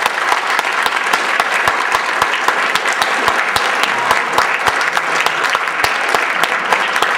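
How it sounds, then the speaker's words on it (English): A debate audience at the Sheraton in Alaska applauds the candidates, dense sustained clapping from many hands filling the room at a steady, loud level. "If we could please just give the candidates a round of applause."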